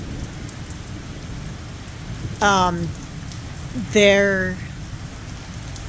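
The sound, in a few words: heavy rain during a thunderstorm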